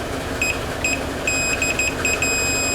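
A multimeter's continuity tester probing a switch in a Marantz 2225 receiver, sounding short high-pitched electronic beeps in an irregular series of brief pulses over a steady background hiss.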